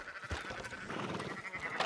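A single sheep in the video game Red Dead Redemption 2 bleats in a drawn-out, wavering call, close and moderately loud, with no talking.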